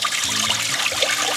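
Water runs steadily from an outdoor sink while locs are being washed, a continuous close trickling and splashing that fills the whole stretch with no talking.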